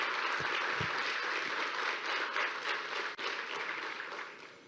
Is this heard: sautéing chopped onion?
no